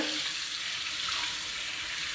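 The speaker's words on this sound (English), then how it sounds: "So I squeeze it out, excess water." Hot water squeezed out of freshly washed hair during a wash-and-go routine makes a steady, close hiss of running and dripping water, with no talking over it.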